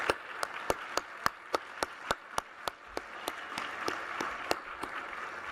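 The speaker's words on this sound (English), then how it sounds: "Can we have another round of applause for Nomadic" Audience applause at an awards ceremony luncheon, a steady wash of many hands clapping, with a few sharp, evenly spaced claps standing out near the front throughout.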